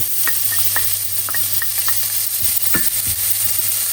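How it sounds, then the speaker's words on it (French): Onions sautéing in a pan for risotto alla carbonara, a loud steady sizzle up close with a few light clicks of stirring, no speech. "je vais faire revenir mes oignons."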